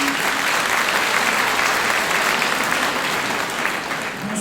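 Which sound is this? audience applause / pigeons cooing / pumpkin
audience applause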